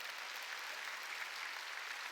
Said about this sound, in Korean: 깨달은 사람만 박수 치라고요